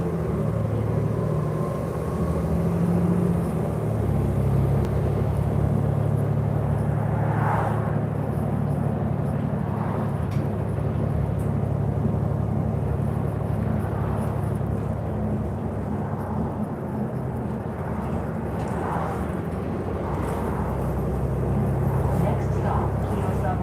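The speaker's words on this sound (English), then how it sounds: "our Queensway 80 bus right here we're on" A TTC Queensway 80 bus rides along, heard from inside the cabin: a steady low engine drone and road rumble continuing throughout, with a voice talking over it.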